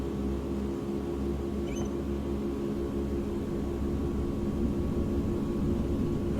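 Engines of a Caribou cargo plane in Microsoft Flight Simulator 2020 drone steadily on the runway as they throttle up, a constant low propeller hum with layered tonal whine and faint hiss, gradually growing slightly louder.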